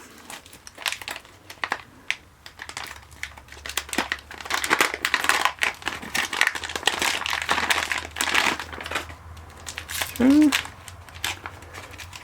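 A plastic trauma kit package has its tab pulled and is torn open, giving loud crinkling and crackling of plastic that builds midway, with someone talking over it.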